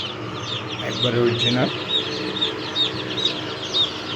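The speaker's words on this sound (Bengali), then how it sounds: "আর এটা হচ্ছে আপনার কক মুরগির বাচ্চা" Chicks cheeping in a poultry shop, a string of thin, high peeps repeating steadily under a voice, with some wing flutter and other birds in the background.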